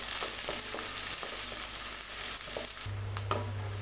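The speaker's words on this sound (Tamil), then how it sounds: "வெங்காயத்தெல்லாம் வதக்கிக்கலாம்." Two chopped large onions sauté in a pan for a soya bean gravy, with a steady sizzle and frying hiss and occasional scraping stirs of a spoon, no talk.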